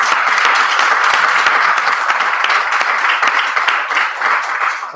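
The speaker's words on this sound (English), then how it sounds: "So I'd like the team to give you guys a big round of applause." A conference audience at ZooCon 2015 gives a big round of applause, loud, dense clapping from many hands sustained for about five seconds and tapering slightly at the end.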